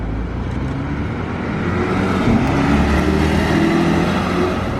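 A full-white Porsche GT3 RS sports car drives past on a Monaco street, a steady loud engine and road roar swelling slightly as it nears, with no talk.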